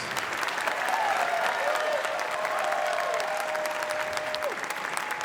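A large convention crowd at an opening ceremony applauds the Sharma sisters, a loud sustained roar of clapping with a faint whistle-like tone sliding through it and no talking.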